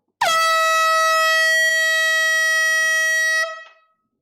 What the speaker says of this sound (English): Air horn countdown.